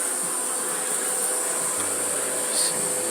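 A carpet-cleaning vacuum runs on a matted carpet saturated with cat hair, a loud steady motor whine with a high hiss, continuous and close throughout, with a brief low rumble near the end.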